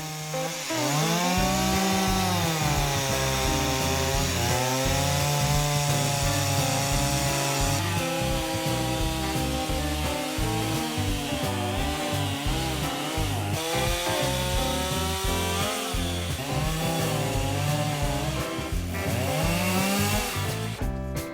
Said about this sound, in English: I have no choice but to cut it around with a chainsaw.